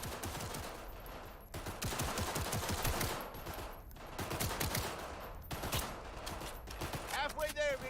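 Rapid video game gunfire at targets: repeated bursts of loud shots with brief pauses between volleys, close and dense, ending with a short rising electronic tone.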